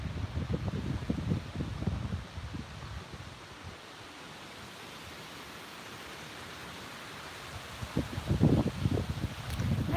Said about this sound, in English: you can't see the wind, but you can hear the wind